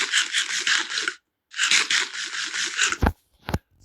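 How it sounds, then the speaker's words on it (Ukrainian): An apple being eaten in the Minecraft video game, with two bursts of rapid, rhythmic crunchy munching, close and distinct, then a couple of short clicks. "Зараз я його якраз з'їм."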